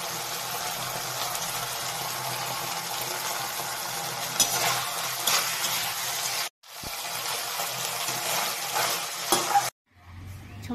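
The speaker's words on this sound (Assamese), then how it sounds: "চম্বা দিবৰ কাৰণে মই জিৰা অলপমান, শুকনা জলকীয়া এটা, তেল গৰম কৰি দালিখিনি দি দিলোঁ" Cooked dal tipped into hot oil tempered with cumin seeds and a dried red chilli, a loud continuous sizzle with stirring and scraping, briefly dropping out twice before resuming.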